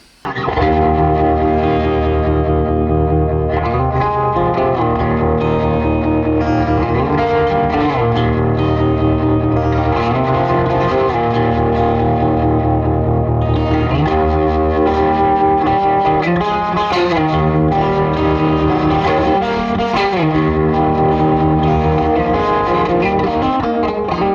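Distorted electric guitar chords ring through a 1950s Gibson tweed tube amp with a deep, pulsing, wavering tremolo throughout, loud and continuous.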